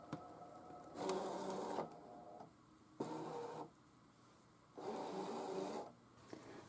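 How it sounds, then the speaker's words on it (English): Electronic craft cutting machine pulling in a cutting mat, three bursts of motorized whirring separated by quiet pauses, close and fairly faint, no talk. "let's go ahead and insert this in the machine and get cutting"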